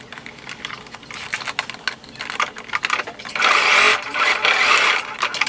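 Sewing machine stitching a seam on a beginner's shorts project, running in short bursts then a longer sustained whir, close and fairly loud, with clicks between runs.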